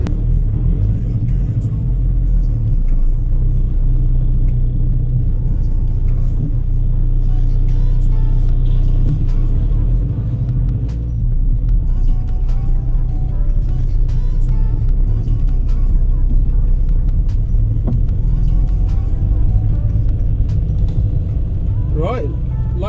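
VW Touran with a brake pressure sensor fault driving along, a steady low engine and road rumble throughout with scattered clicks, and someone talking over it.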